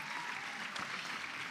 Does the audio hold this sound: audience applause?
yes